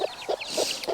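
A chicken on a farm clucks close by in four short, evenly spaced bursts, loud and alone with no talking.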